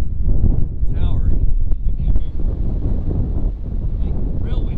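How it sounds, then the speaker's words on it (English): Strong, steady wind roars and buffets the microphone throughout at an abandoned airmail tower, with low rumbling gusts; a voice speaks briefly at times. "Like, real windy."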